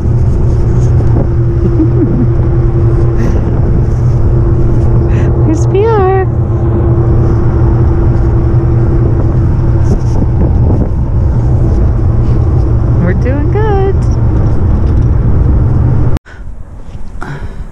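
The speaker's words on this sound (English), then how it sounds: "we're gonna have to sit in the back of a pickup truck" Loud, constant road rumble and wind buffeting while riding in the open back of a pickup truck, steady throughout and briefly interrupted near the end, with faint voices underneath.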